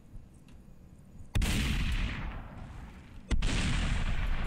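Enemy gunshots in the video game Superhot: two loud, sharp booming shots about two seconds apart, each followed by a long noisy decay, over a quiet background with no talking.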